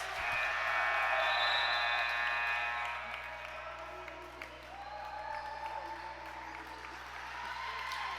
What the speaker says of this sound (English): that includes applause here from the home crowd